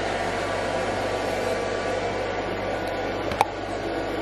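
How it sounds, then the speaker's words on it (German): Robot vacuum cleaner running in a home, giving a steady, moderately loud whirring hiss throughout with one short click near the end. "Und der Staubsaugerroboter läuft"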